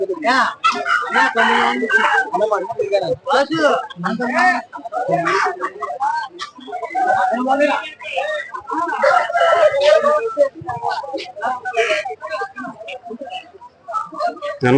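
Chickens clucking and a rooster crowing repeatedly at a busy tribal weekly market in the hills, loud and close, mixed with steady crowd chatter and voices talking throughout.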